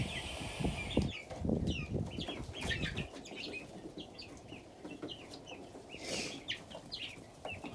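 Ducklings in a shed with heat plates, a batch of twelve, chirp in quick bright peeps over flapping and rustling from nearby poultry, fairly close and steady throughout.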